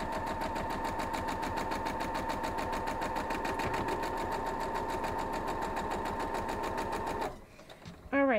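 A sewing machine runs steadily, stitching together pieces of a quilt block in a fast, even mechanical rattle for about seven seconds before stopping abruptly, followed by a brief faint handling noise.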